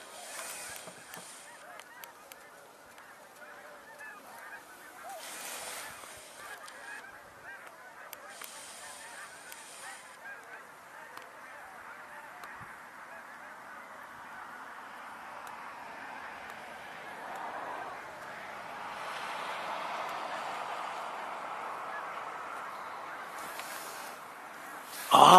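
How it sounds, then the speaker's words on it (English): Snow geese honk in the distance, a continuous chorus of many overlapping calls that swells louder toward the end, with faint wind and occasional breathing nearby. "I thought I was hearing snow geese, and I think I am."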